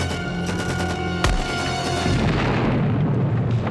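A big explosion from an action war film about missing-in-action soldiers, with prisoners caught in the blast: a sudden heavy boom cuts through a sustained musical score, followed by a loud, rumbling wash of debris that continues to the end.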